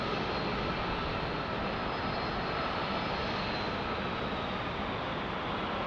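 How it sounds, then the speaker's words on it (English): A Gulfstream G450 business jet sits on runway 35 at Salt Lake City International Airport, its engines giving a loud, constant broadband roar that stays even and unbroken throughout. "Looks like we got a Gulfstream ready to roll."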